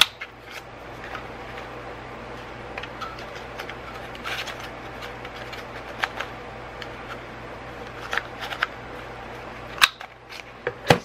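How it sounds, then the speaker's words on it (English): A corner punch snips the corners off cardboard tags cut from recycled boxes, giving a few sharp, close clicks near the end over a quiet room hum and faint rustling. "take your corner punch and just put it in and snip off the corners"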